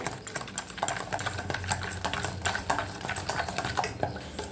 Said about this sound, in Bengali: লবণ সামান্য একটু কাশ্মীরি রেড চিলি সমস্তটা খুব ভালো করে মিশিয়ে নেব